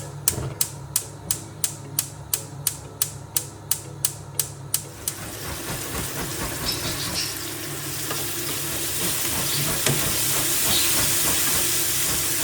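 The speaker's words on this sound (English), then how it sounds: "I add garlic and ginger and chili to it. And then some olive oil." Onion, garlic, ginger and chili frying in olive oil: a run of sharp, evenly spaced clicks for the first few seconds, then a steady sizzle that swells and grows louder and fuller toward the end.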